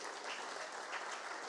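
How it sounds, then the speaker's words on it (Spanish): Brief, steady audience applause greets the moderator at a legal debate event on holdouts, a dense even wash of clapping from the room. "Un aplauso, por favor."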